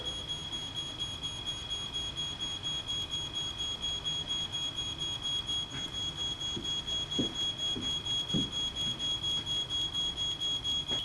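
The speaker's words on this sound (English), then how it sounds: "The smoke alarm on the 2nd floor now activates." Smoke alarm on the second floor of a house going off during a fire, a steady high-pitched electronic tone sounding continuously throughout, with faint low rumbling and scattered clicks underneath and no speech.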